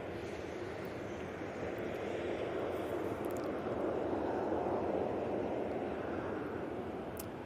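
A Jet2 Airbus A330 taxis out at Manchester Airport with a steady, broad jet-engine roar that stays constant and fairly distant for the whole stretch, with no speech over it.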